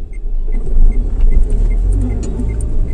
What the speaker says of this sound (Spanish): Saco el freno, acelero.